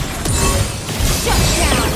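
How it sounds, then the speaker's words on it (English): Loud, dense crashing destruction of a turret in a live-streamed team video game match, with heavy smashing impacts and layered game effects filling the sound continuously, close and forceful. "Our turret has been destroyed."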